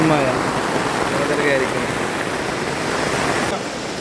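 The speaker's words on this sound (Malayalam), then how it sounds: "വെറും കാറ്റും മഴ" Steady, dense rush of heavy monsoon rain at TK Colony, Pookkottumpadam, with a broadband roar, constant and close throughout, dropping slightly near the end; faint voices linger early on.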